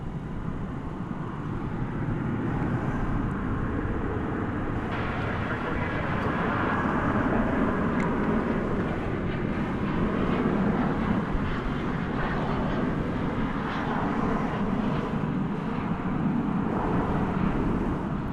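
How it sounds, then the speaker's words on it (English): A steady, loud jet engine roar from an airplane coming in to land at Dallas/Fort Worth Airport, rumbling continuously throughout with no pauses and no voices. "Another plane coming in."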